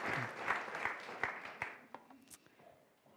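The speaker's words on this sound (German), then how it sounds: "wir geben dem Philipp einen herzlichen Applaus, wenn er auf die Bühne kommt." Audience applause greets a guest walking onto the stage at a talk event, a dense patter of clapping that swells briefly and then thins out into scattered claps, heard at a moderate distance.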